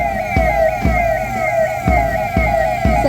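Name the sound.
siren of 112 emergency vehicle passing in Republic Day parade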